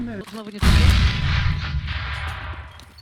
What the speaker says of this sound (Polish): się wysadził własną rakietą